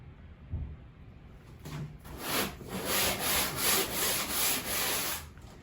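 Coarse sandpaper scrubbing a painted wall: quiet handling at first, then about four seconds of loud, steady back-and-forth rasping strokes in a regular rhythm, close by, with no talking.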